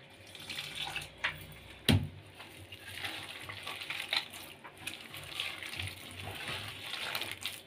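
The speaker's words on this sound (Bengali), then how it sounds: "অল্প একটুখানি জল নেব।" A small splash of water is added to a stiff, tight dough in a home kitchen. The sound is quiet and close, with soft trickling and wet handling and one sharp knock about two seconds in.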